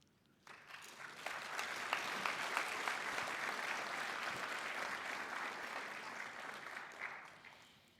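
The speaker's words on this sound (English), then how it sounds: "So I would like you to thank them with a big applause." Audience applause at a Vesak celebration, swelling quickly into a sustained, dense round of clapping from a large crowd before tapering off near the end.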